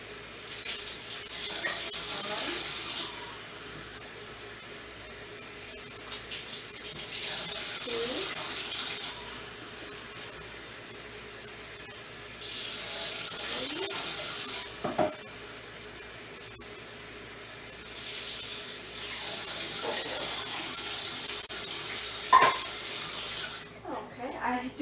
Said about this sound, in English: so now I put 4 cups of water